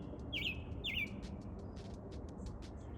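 A song thrush sings in the open during December, giving two bright repeated phrases early on followed by fainter short notes, heard alone over a low steady outdoor rumble.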